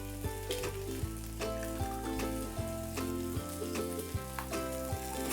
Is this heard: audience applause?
no